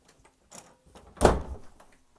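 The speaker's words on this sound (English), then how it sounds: "I knocked on the door" A knock on a door lands as one loud, close, heavy thud, preceded by a fainter tap and followed by quiet.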